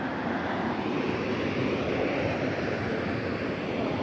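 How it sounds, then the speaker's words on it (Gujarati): Water rushing through the Dantiwada dam in a continuous broad roar, loud and close, with a steady windy wash and no voices. "જો અહીંયા પાણી ચાલુ જ છે અંદર."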